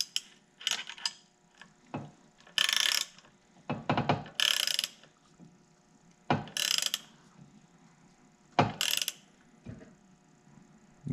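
A 14 mm wrench ratchets in short bursts while tightening an air fitting into an air tool, with quick clicking runs separated by pauses and small metallic clunks, close and fairly quiet.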